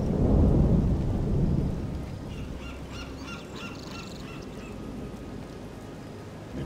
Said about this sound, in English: they are beset in the open seas by a sudden, fierce storm